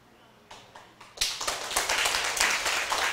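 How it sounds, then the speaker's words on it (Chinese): Applause breaks out from an audience at a lecture hall talk, starting with a few scattered claps and swelling into steady, dense clapping from many hands that continues to the end. "免拍手，免拍手，"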